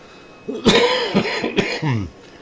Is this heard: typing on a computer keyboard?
no